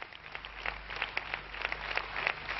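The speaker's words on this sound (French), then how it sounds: "applaudissements courtois" Polite, scattered applause fills a party meeting hall, a steady patter of clapping hands held at moderate, even volume throughout with no cheering.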